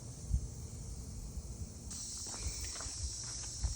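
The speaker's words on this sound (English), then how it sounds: "it's very loud with the bugs and stuff out here buzzing and everything" Insects buzz outdoors in a garden of rose cuttings and basil, a steady high-pitched drone that grows louder partway through, with faint rustles and footsteps nearby, quiet overall.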